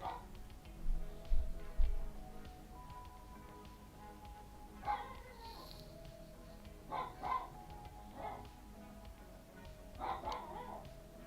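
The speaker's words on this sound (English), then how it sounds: "My dog's awake." A dog barks faintly in a few scattered short bursts, distant and indoors, with quiet stretches between them and no talk.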